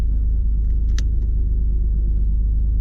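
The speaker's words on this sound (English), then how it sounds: "the exhaust is set to Tour." A Mitsubishi 3000GT VR4 with its exhaust set to Tour settles into a steady, deep idle rumble, close and continuous, with a faint short click partway through.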